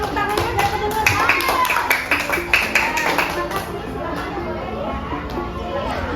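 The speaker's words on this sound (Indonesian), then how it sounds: "Oke, tepuk tangan buat perempuannya." Pupils in an elementary school classroom clap for a girl, a quick patterned rhythm of many small hands tapping in unison, with children's chatter mixed through and fading toward the end.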